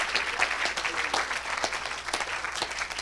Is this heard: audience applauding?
yes